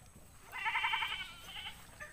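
A goat bleats in a wavering, quavering call, followed by a shorter second bleat, moderately close with faint background noise.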